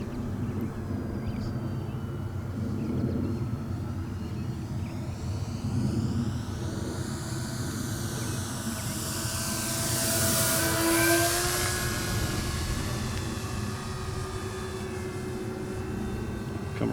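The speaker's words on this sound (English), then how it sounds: "Come around for one more pass and then we'll set up for a final landing." HobbyKing Avios 1900mm PBY Catalina RC floatplane making a low pass, its motor drone rising as it approaches, peaking overhead with a sweeping pitch change, then fading away.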